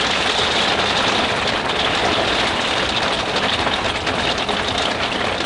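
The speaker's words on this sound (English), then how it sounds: "Sorry, it's hailing." Hail pelts down in a dense, unbroken roar of small impacts, loud and close, steady for the whole stretch with no talking.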